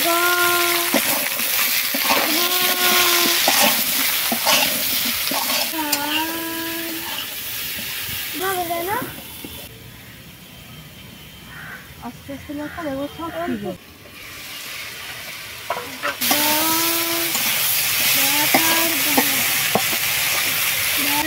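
Flat beans, eggplant and potato sizzle and scrape in a hot pan as they are stirred, a steady frying hiss running under a voice speaking throughout.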